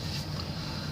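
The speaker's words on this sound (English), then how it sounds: "It's so windy today," Strong outdoor wind buffets the microphone in a loud, continuous low rumble with a steady breathy hiss, lasting the whole moment with no voices.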